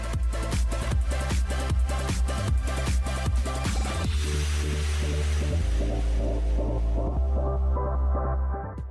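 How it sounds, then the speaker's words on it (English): A suction cutter dredger works with a deep, rhythmic throbbing hum. Regular pulses are heard first, then they blend into a continuous heavy mechanical rumble that fades near the end. "Suction cutter dredger."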